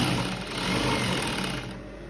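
A sewing machine stitches a shirred, smocked off-shoulder dress, its steady mechanical hum running continuously and fairly close with no talking.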